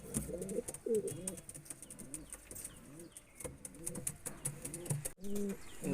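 Domestic pigeons of the Andra and Malbai breeds kept at home, cooing in repeated low, throaty bursts close by, with soft chirps and a brief wing flutter in between.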